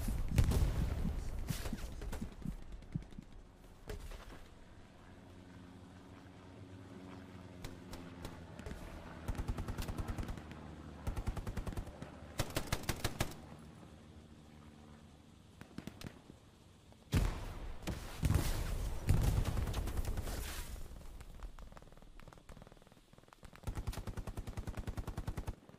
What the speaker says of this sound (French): J'ai pris une double rafale, une de la droite, une de la gauche, j'ai rien compris.